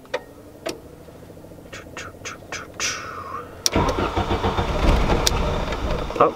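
A car engine cranks on its first startup of the day, with short clicks and stuttering starter whirs before the engine catches and roars into a loud, rough idle.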